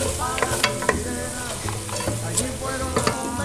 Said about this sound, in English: we're going to add a tablespoon of tomato paste and just let it cook in here for about 4 or 5 minutes